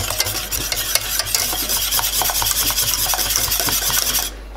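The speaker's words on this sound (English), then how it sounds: "we're just going to mix it like continuously and hope that it doesn't become lumpy" Thick white chocolate fudge cake batter being mixed continuously in a bowl, a loud, steady rasping rub with rhythmic scraping strokes that stops abruptly near the end, with no voices.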